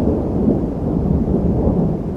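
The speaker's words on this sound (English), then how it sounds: "It's a rainy day." Thunder rumbles low and continuous on a rainy day, with a steady wash of rain close by and no voices.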